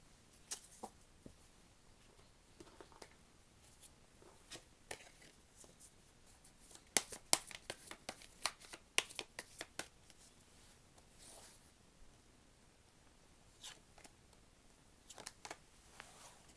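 Tarot cards are shuffled and drawn in a quiet room: soft, scattered card flicks and snaps, with a denser cluster of quick shuffling in the middle.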